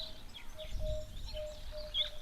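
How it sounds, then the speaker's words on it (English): Sparrows chirp at a waterhole, with faint, scattered high twitters over a steady outdoor hum and a thin continuous tone, quiet and somewhat distant, with no talking. "Oh, and sparrows."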